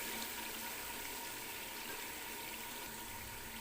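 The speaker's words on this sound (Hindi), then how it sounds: "अब हम इसके अंदर डालेंगे पानी।" Water gushes steadily into a pot of aloo matar pulao as it cooks in a village kitchen, making a continuous, even splashing rush with no breaks and no talking.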